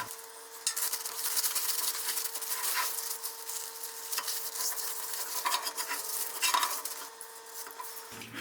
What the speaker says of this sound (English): I'm just using some chain and sprocket degreaser to clean up this grease on this